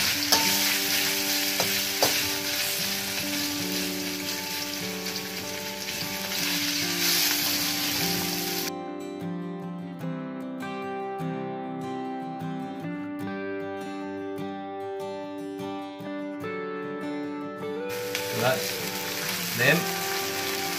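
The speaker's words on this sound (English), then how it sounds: "Got my pre-marinated beef here. Just going to pop that in through hot oil." Pre-marinated beef frying in hot oil for a takeaway-style beef chow mein, a steady loud sizzle with crackling spits that drops to a quieter bubbling midway, then swells again.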